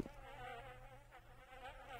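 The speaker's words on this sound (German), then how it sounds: "wir hören ein paar Fliegen summen." Flies buzzing in the video game The Town of Light, a faint continuous whine near a fridge in a decaying room, steady and unbroken for the whole moment.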